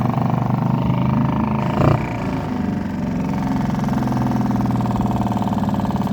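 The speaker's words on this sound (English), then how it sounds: "That's a pretty cool little motor." A Suzuki 2.5 horsepower outboard motor, reportedly leaking water and oil, runs steadily at a low putter, with a brief louder bump near two seconds, close by.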